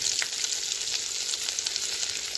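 Chopped ginger dropped into lentils frying in hot oil, giving a loud, continuous crackling sizzle with a few small pops and no voices.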